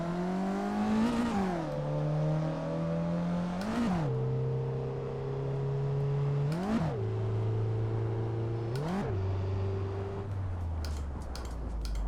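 Simulated race car in Assetto Corsa driven with sequential paddle shifts, engine note climbing steadily then dropping sharply at each of four quick upshifts, loud and continuous with no talking.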